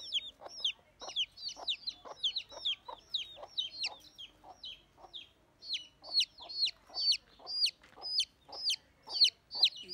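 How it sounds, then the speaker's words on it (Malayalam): Tiny baby chicks cheeping rapidly and continuously, a dense stream of high, sharp peeps repeating in quick rhythm at close range against an otherwise quiet background. "അതായത് കോഴിക്കുഞ്ഞുങ്ങളാണ് ഫ്രണ്ട്സ്"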